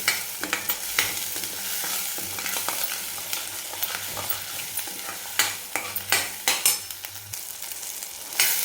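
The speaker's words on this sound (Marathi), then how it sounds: "आता हे सगळे जे मसाले आहेत ते आपण छान एकदम परतून घ्यायचे" Ground spices including coriander powder are sautéed in a pan, a soft ongoing sizzle broken by repeated scraping strokes and taps of a spoon as the mixture is stirred.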